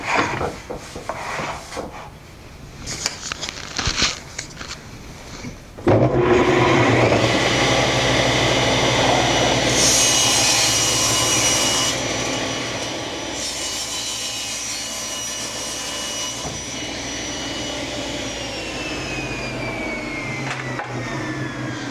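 A table saw rips through a piece of MDO to cut small triangle braces: quieter handling noises first, then the blade bites in at about six seconds and a loud, steady cutting whine carries on to the end with no talk.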